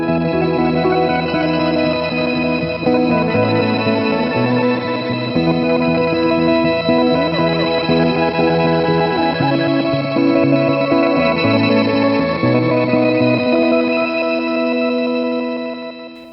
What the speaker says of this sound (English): The count to 5 pedal fits the bill for this situation.